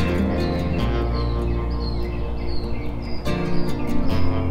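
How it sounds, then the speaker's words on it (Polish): A large flock of sparrows in a tree chirps continuously, a dense overlapping chorus of short tweets with steady loudness and no voices. "na tym drzewie jest z milion wróbli"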